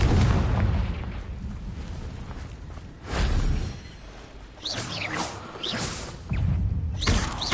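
Confringo fire spell from the video game Hogwarts Legacy, heard as repeated loud booming blasts with whooshing bursts, several impacts spaced across the stretch over continuous game ambience.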